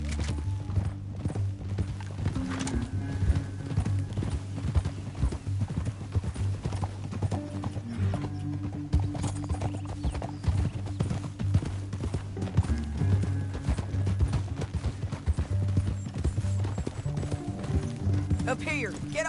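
Rapid, continuous hoofbeats of horses galloping through a canyon in Red Dead Redemption, loud and close, with a snort or whinny breaking through the pounding rhythm.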